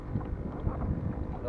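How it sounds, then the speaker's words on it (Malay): Wind rising over the sea around a kayak off Pulau Bunting, Malaysia, a loud, rumbling gusty roar buffeting the microphone continuously, with a voice partly audible beneath it. "Nampak gaya angin mula datang."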